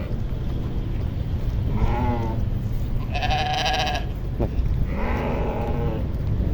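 Lambs just separated from their mothers bleat in a livestock pen in Chüy, Kyrgyzstan: three or four loud, wavering cries spaced a second or two apart over steady outdoor wind noise.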